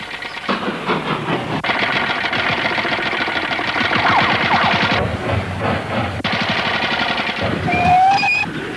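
A train approaching a station, with a steady, loud rhythmic chugging and clatter of wheels that runs throughout, and a rising whistle-like tone near the end.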